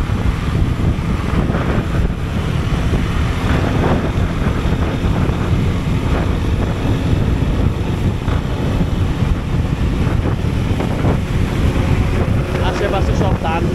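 Strong rushing wind buffets the microphone continuously while riding a motorbike, a dense, loud roar with low rumble and no pauses.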